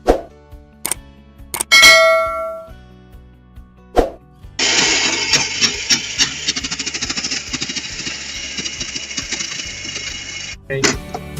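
Nostalgia Coca-Cola slush machine grinding ice: a few sharp clanks and knocks of cubes at first, then a sustained harsh crushing rattle for several seconds that cuts off abruptly, followed by another clatter.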